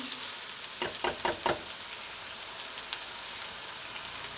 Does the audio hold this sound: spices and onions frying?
yes